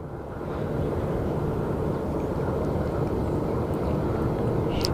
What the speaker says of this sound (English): Oh, a plane is landing.